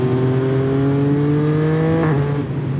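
Yamaha MT-09 motorcycle with quickshifter and Akrapovic exhaust, producing about 130 horsepower: a loud, steady engine drone rising slightly in pitch under acceleration, with a brief quickshift dip before the note drops to a lower gear, alone without talk.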